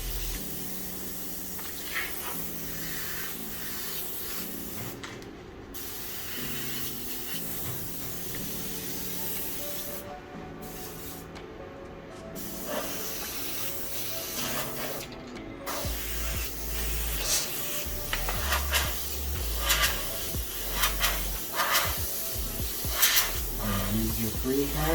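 Airbrush spraying paint in freehand streaks for a flame design, a soft continuous hiss with brief pauses between passes, heard under a person talking throughout.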